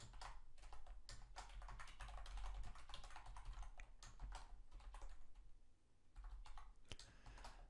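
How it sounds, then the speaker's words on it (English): Fingers typing HTML code on a computer keyboard, a quiet, steady run of rapid key clicks with brief pauses, close and soft, with no talking. "I'm going to type what's called an inline style"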